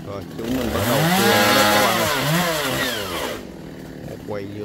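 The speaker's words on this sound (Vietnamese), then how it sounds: "Rồi chúng mình bắt đầu cưa" A chainsaw cutting into a coconut tree, its engine revving up loud and close with rising and falling whine, then dropping back to idle near the end.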